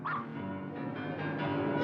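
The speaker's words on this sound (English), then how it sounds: "You got a fucking dog down here, too." A dog whimpers and yips in a continuous whiny, tonal cry lasting under two seconds, close and fairly quiet, with no talking over it.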